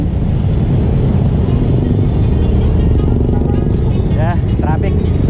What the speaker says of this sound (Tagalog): Yeah, traffic.